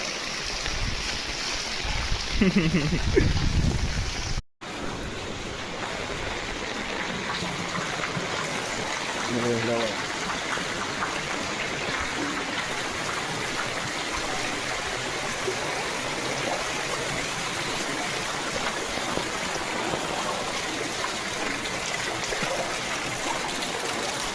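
Continuous rushing rainwater flowing steadily down a village lane, with a voice speaking briefly near the start over the broad watery noise.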